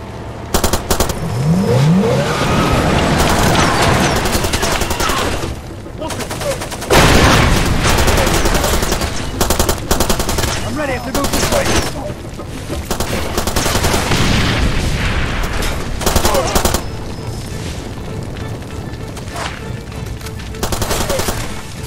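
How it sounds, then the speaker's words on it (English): Heavy gunfire in Far Cry 2 pours from the shore at a player stuck on a barge: loud, dense machine-gun bursts and rifle shots continue almost without pause, over engine rumble and booms. "You guys are shooting at me from shore."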